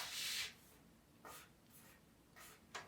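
Paper folded in half for a Sun and Mars orbit model gives a crisp, close rustle and crease at the start, then several short, softer rustles spaced apart, with no voices.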